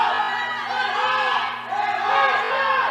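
The Strasburg crowd roars and cheers steadily throughout a high school wrestling match, a dense, sustained wall of shouting voices from the stands.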